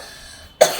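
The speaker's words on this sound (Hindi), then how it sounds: "ओए खांसी हो गई" A single short cough bursts out near and loud after a near-silent stretch, a brief second push trailing right behind it.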